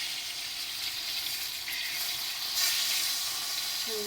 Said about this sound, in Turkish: kızartma işlemimiz başladı